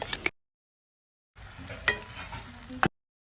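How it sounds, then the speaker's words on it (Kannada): Ground spinach paste is stirred into a potato curry in a pan, giving soft scraping and gentle sizzling in two bursts separated by a pause of silence. "ಇವಾಗ ರುಬ್ಬಿಕೊಂಡ ಪಾಲಕ್ ಪೇಸ್ಟನ್ನು ಹಾಕ್ತಾ ಇದ್ದೇನೆ. ಒಂದು ಸಲ ಚೆನ್ನಾಗಿ ಮಿಕ್ಸ್ ಮಾಡಿ."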